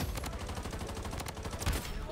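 Rapid automatic fire from an AUG assault rifle in the mobile shooter Bloodstrike, a dense stream of close, loud shots running the whole stretch with a louder burst near the end.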